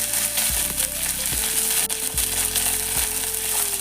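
Green chillies, mustard seeds and curry leaves sizzle loudly in hot oil for a spicy country chicken pepper fry, a close continuous crackle punctuated by a few dull knocks.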